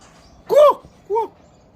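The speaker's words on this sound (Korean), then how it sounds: "제잘제잘 온갖 산새들 노랫소리" Two short, bright, warbling calls from mountain birds with a pause between them, sung alone against a quiet background.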